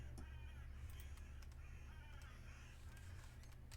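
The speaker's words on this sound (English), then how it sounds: "The crows suck." Crows caw in a scatter of short, harsh calls over a constant low background hum, sounding somewhat distant, with no voices.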